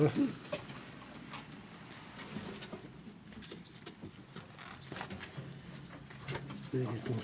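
Pigeons coo softly in a loft alongside faint wing flutters and shuffling, while men chat quietly close by.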